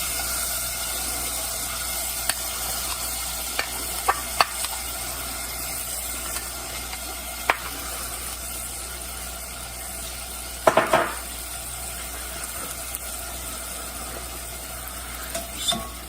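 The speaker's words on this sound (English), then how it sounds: "I'm gonna add the ginger and the garlic and stir them around a bit and let it cook through" Ginger and garlic are stirred in hot olive oil while spicy chicken soy tacos are being made: a steady low sizzle runs throughout, broken by scattered sharp clicks and scrapes from the stirring.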